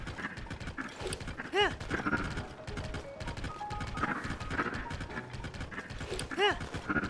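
Horse hooves galloping in The Legend of Zelda: Tears of the Kingdom, a steady rapid clip-clop rhythm running throughout, with occasional chiming game tones and a brief spoken word over it.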